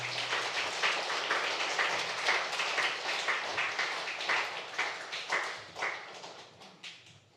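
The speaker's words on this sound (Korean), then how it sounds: "박수 치시면 돼요" A church congregation claps for a pastor being welcomed forward at Sunday service, a dense steady patter of many hands that holds for several seconds and then thins toward the end.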